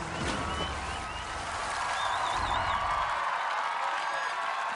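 Crowd cheering and whooping at an American Ninja Warrior All Stars competition, a sustained distant roar with scattered shouts and whistles, fairly faint and steady, thinning near the end.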